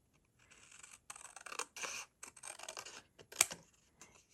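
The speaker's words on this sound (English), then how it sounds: "we're just gonna cut on that pencil mark. So I'm gonna grab my scissors." Short bursts of crisp scissor snipping and paper rustle come close to the mic, several quick cuts along a pencil mark separated by brief pauses, with one sharp click near the end.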